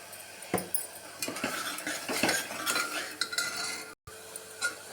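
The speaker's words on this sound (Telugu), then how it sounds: "ఇలా బాగా ఫ్రై అయ్యేటప్పుడు గమ్మని సౌండ్ స్మెల్ వస్తుంది" Spices and a pinch of asafoetida fry in a pan for rasam, with a soft sizzle under them. A spoon scrapes and clinks against the metal pan in short, irregular stirring strokes, close by, with a brief silent gap near the end.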